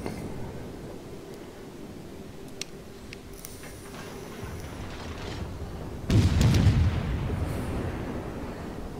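High-explosive shells from a light cruiser strike enemy ships in the naval game World of Warships, heard as muffled booms and rumbling impacts under a steady game background, with a heavier hit partway through.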